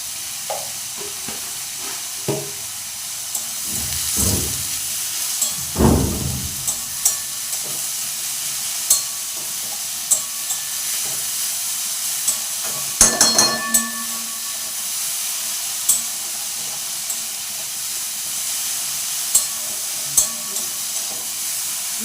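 Onions fry in a pan for onion posto while salt is stirred in, producing a steady hissing sizzle with a few louder scraping stirs early on and lighter scattered clinks afterward.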